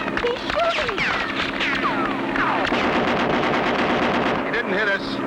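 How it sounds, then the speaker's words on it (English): Plane gunfire in an animated cartoon, heard as a dense continuous rattle beneath excited voices talking. "Look, he's shooting us."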